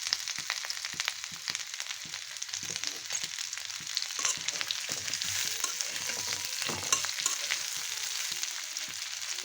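Elephant apple pickle fries in mustard oil, a steady soft sizzle and crackle with faint stirring scrapes running throughout at moderate volume, no voices.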